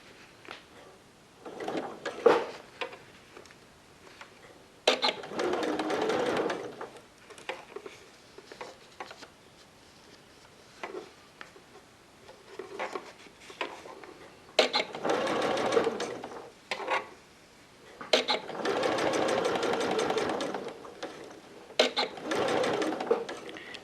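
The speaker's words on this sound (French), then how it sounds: "on va piquer dans le tissu et on va tourner légèrement, étape par étape" Sewing machine stitching waterproof bib fabric through an adjustable bias binding foot, running in repeated bursts of rapid whirring stitches a few seconds long. Short pauses and small clicks fall between the bursts, and no one speaks.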